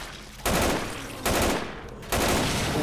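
Rapid automatic gunfire in Left 4 Dead 2 comes in three loud, dense bursts separated by short gaps, close and harsh, with no talking.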